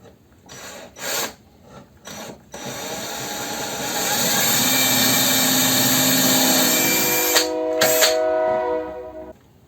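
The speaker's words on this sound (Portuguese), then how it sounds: "parei um pouquinho porque tinha um trem passando." A train passes near a woodworking shop, its rumble swelling into a loud sustained grinding roar with a brief horn-like tone, after a few short rasping workshop noises at the start.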